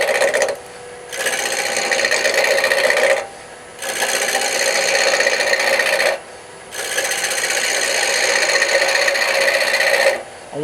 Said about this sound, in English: This is my regular roughing gouge. I want to put a round on this end.